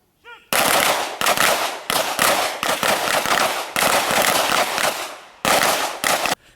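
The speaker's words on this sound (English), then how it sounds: "held its 9th shooting event, the George Melville Memorial Pistol Shoot at the GDF shooting range, Timeri" Rapid volleys of pistol gunshots at the GDF shooting range in Timeri during a memorial pistol competition, loud and close, with bursts of overlapping cracks and brief gaps between strings of fire.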